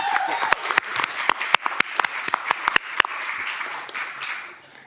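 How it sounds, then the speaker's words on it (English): Applause at a City of Hamilton council committee meeting after a housing presentation: sparse, uneven claps from a small group, sharp individual hand strikes over a soft murmur of voices, fading out toward the end. "thanks everybody for the applause"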